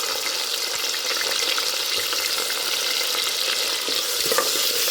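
Green chilies and onion pieces frying in a pan give a steady, close, dense sizzle throughout, with occasional small pops and no talking.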